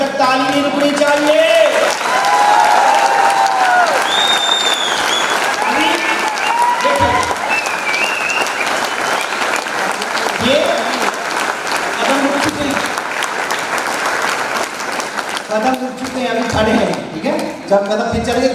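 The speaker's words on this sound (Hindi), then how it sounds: "इनके कदम रुकने तक ताली नहीं रुकनी चाहिए।" Loud, sustained applause from an audience in a training hall, a dense rhythmic clatter of many hands, with someone speaking over it at intervals.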